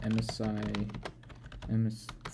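Keys clatter on a computer keyboard in quick irregular taps while someone talks over them.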